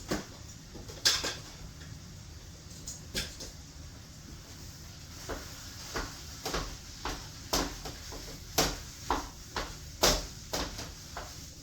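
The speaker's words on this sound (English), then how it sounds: "we're going to smash up the burger a bit, the hamburger a bit" Ground hamburger meat being broken up in a pan for shepherd's pie: a metal utensil strikes and scrapes the pan in a steady series of sharp, close clanks and clicks, with no talking.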